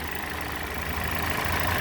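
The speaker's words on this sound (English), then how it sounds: "this is right here is a 2-liter direct injected Toyota's 4-cylinder engine" A 2020 Toyota Corolla SE's 2-liter direct-injected four-cylinder engine idles close by with a steady, even hum and a faint ticking texture, alone and unchanging for a couple of seconds.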